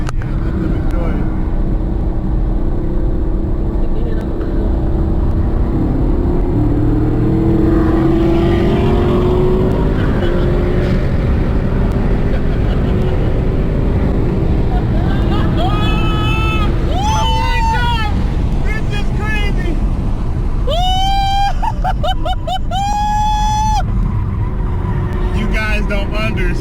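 A Chevrolet Camaro ZL1 on a race track: a steady loud engine roar and road rumble throughout, with excited voices shouting and talking over it.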